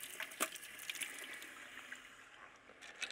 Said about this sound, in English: one of the best way is to peel it underwater, like I have here, you know, a little bit of water.